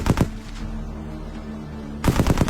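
A tank fires its machine gun in two rapid bursts of sharp, fast-repeating shots, a short opening burst and a longer one at the end, with a quieter rumbling stretch between them in a war setting.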